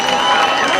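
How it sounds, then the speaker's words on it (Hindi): Loud, dense applause from a college audience at a contest in Solapur fills a brief burst, with a voice speaking over the clapping. "जोरदार तालियों की गुजारिश है"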